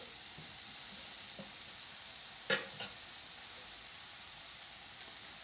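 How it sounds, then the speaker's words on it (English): Mushrooms fry in canola or vegetable oil over high heat with a steady, fairly quiet hiss. Two brief clatters from a stirring utensil cut in around the middle. No one speaks. "So we have these mushrooms cooking on high heat."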